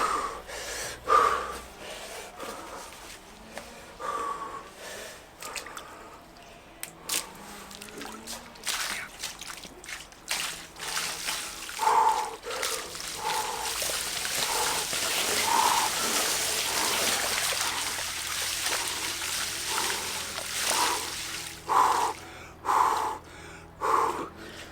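Wim Hof method hyperventilation breathing before a plunge into 3°C water: repeated sharp, forceful breaths and gasps, close and loud in an uneven rhythm, with a longer stretch of steady exhaled rushing in the middle.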